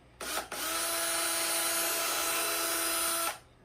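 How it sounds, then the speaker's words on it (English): A power drill driving a screw into wood for a woodworking project, a brief start and pause and then one steady high whine lasting about three seconds before it stops, close and loud. "my best bet is I'm going to screw it in first"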